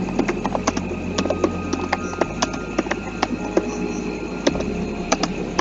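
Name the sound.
typing on a computer keyboard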